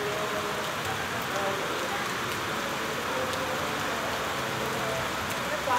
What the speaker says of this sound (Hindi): बारिश आ रही है